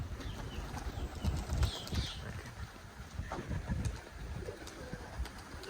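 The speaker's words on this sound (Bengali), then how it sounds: "এই যে আমার কবুতরগুলো যখন সবাই একসাথে উড়ে" A flock of pigeons cooing together in a village during light drizzle, soft repeated coos at close to moderate distance with fluttering wing sounds mixed in.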